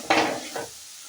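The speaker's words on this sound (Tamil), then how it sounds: "சேர்த்துட்டு ஒரு தடவை நல்லா எல்லாத்தையும் வதக்கி விட்டுருங்க" Cabbage poriyal with coconut paste is stirred in a pan, giving two brief scraping stirs with a soft sizzle that fades out quickly.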